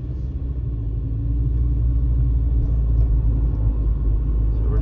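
A car with a CVT transmission accelerates with its engine held at a steady 2000 RPM, a constant low engine hum and rumble that swells slightly in level, heard from inside the cabin with no voices.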